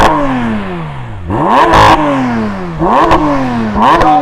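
A stationary sports car engine, a Porsche 911 or BMW M4, revs repeatedly in place, rising sharply to a high wail and dropping back each time, loud and close with harsh blips.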